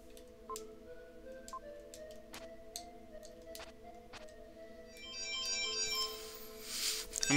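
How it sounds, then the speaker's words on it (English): A phone ringtone in a Japanese-style RPG, Illusion of Gaia, chiming in short repeated pulses over steady background game music, swelling louder near the end. "I'm getting a phone call"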